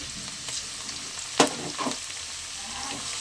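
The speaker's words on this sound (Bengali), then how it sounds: "আদা রসুনটা ভালো করে ভেজে নেবো যাতে গন্ধটা না থাকে।" Ginger-garlic paste frying in a pan with onions and green chillies gives a soft, steady sizzle, with a sharp utensil scrape and a few quieter stirring strokes near the middle.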